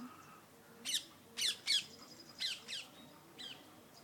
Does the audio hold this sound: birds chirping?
yes